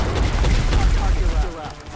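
Reaction shots ring out in XCOM Enemy Within, a quick burst of overlapping gunfire crackling over a rumbling game soundscape before fading, with a voice talking over it.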